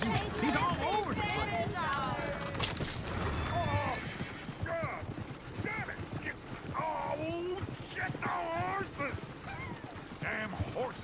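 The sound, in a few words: horse-drawn coach galloping, from video game Red Dead Redemption 2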